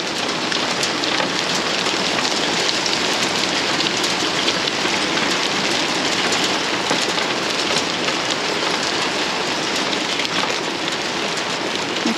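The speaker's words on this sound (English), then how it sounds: "it is now hailing." Hail pelts steadily on and around a garden shed, a dense, even hiss of countless small impacts that continues unbroken and fairly loud throughout, with no voices.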